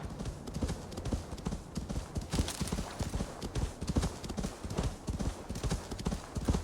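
Horse hooves clip-clop steadily on hard ground in the game Assassin's Creed Valhalla. The footfalls are close, loud and rhythmic throughout, with no talk.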